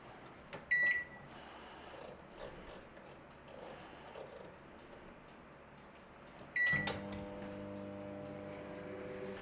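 A microwave oven runs steadily while cooking potato wedges, with a low continuous hum broken by two short electronic beeps, the second followed by a brief clunk and a louder steady drone.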